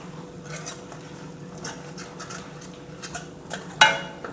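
A spoon stirs Kashmiri red chili powder into dal makhani, scraping around the pot in repeated soft strokes, with a light clink of metal near the end and faint sizzling beneath.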